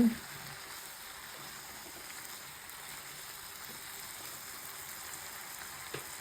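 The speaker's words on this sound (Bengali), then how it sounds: "সবজিটা কষি আপনাদের আবার দেখাচ্ছি এখন কষানো হচ্ছে" Mixed vegetables for a five-vegetable vegetarian dish sauté in a pan, giving a steady, even sizzle that holds at a moderate level throughout, with a soft clink near the start and again near the end.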